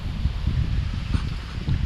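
Strong, cold wind by the water while fishing roars steadily into the microphone, a dense low buffeting rumble that continues without a break and with no voices.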